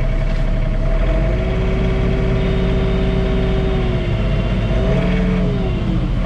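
John Deere 3046R compact tractor with a snowblower attachment, its engine running steadily and loud and close, with a rising whine as the auger engages, no talk over it.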